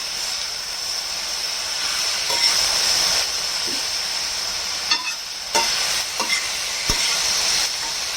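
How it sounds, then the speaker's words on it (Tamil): Capsicum being stirred and turned in a hot pan for kothu parotta, with a steady close sizzle of frying and a few scraping stirs and taps of the spatula, no talking. "குடமிளகாய் போட்டுக்கலாம். கொஞ்சம் திருப்பி விடுங்க."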